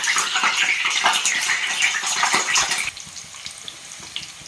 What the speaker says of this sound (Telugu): వంకాయలు వేసుకుందాం. ఇలా ఫ్రై చేసుకోవాలి.